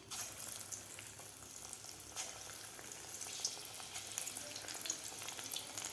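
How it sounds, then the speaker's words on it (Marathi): Chana dal bhaji frying in hot oil in a kadai, a steady dense sizzle and crackle of batter fritters bubbling, close and constant throughout with small pops. "आता आपल्याला भजी सोडायच्या आहेत कढईमध्ये."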